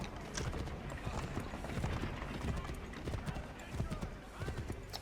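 Horse galloping in the Assassin's Creed III video game, a steady run of hoof clip-clops beneath in-game background sound and a speaking voice.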